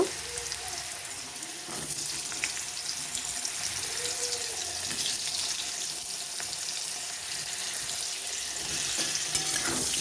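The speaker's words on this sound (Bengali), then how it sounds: "প্রথমে আলুগুলোকে ভেজে নেব" Potatoes fry in hot oil with turmeric in a wok, giving a steady, close sizzle with a bright crackling hiss throughout and occasional soft stirring scrapes.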